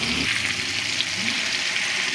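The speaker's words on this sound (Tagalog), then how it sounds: "bawang, sibuyas, kamatis. Gisa na natin guys." Garlic, onion and tomato sautéing in a hot pan give off a loud, steady, hissing sizzle that runs unbroken from start to finish, with no voices.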